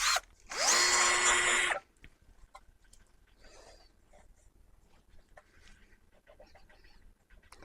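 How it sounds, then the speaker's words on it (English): A power tool deburrs a freshly drilled hole with a loud, close whirring burst of just over a second, followed by faint handling noises and quiet rustling. "we just need to deburr that hole"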